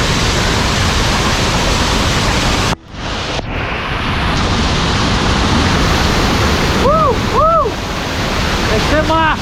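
Loud, steady roar of a waterfall at a campsite, with people bathing in the cold water, broken by a sudden brief dropout before the rush returns, and voices shouting over it.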